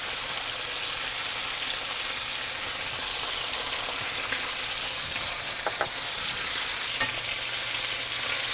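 Chicken pieces frying in a pan with lemon and herbs, a steady bright sizzle filling the whole stretch, with a couple of soft clinks from moving the pieces.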